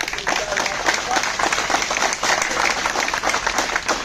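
A crowd at a protest sit-in against a selection commission applauds steadily, dense clapping holding at an even level throughout, with faint voices mixed in.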